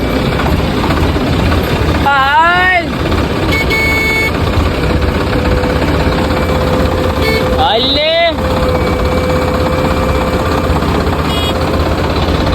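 A tractor engine runs in a village setting, a steady rumbling drone held close and loud the whole way through, with people's voices mixed in.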